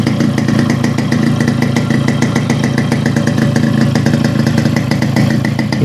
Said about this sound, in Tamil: அப்போ தான் உங்களுக்கு இன்ஜின் சவுண்ட் வந்து நல்லா தெளிவாக தெரியும்